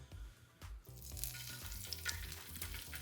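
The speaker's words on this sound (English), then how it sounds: "So now we can just drop in our salmon" Salmon dropped into hot oil in a cast iron pan, a rising crackling sizzle with a low thump as it lands and faint clinks, close and fairly quiet, no speech.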